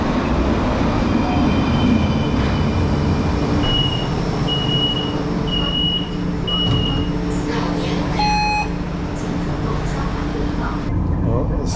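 A tram pulls into a stop in China, with a steady rumble of rolling wheels and motor under the crowd noise, several short electronic beeps sounding partway through, and people talking nearby.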